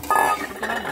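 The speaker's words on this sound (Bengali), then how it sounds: "ঘিটা গরম হয়ে গেছে, আর সিমুইটা ঢেলে দিলাম।" Vermicelli goes into hot ghee in a metal pan, making a short, close rush of sizzle with a light scrape and clink of utensils, and no talking.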